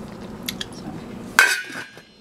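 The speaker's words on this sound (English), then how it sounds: "Put a tight lid on it." A lid is set onto a pan of creamed corn chowder on the stove. One sharp metallic clank is followed by a brief ringing that fades over about a second, after some quieter kitchen clinks.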